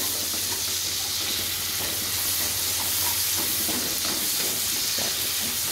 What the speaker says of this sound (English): you can insert your onions. So stir fry them until they are golden